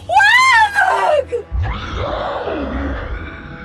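A man's loud, anguished scream of pain in a Filipino horror audio drama, a long wavering cry that breaks off, followed by a strained groaning wail, close and intense.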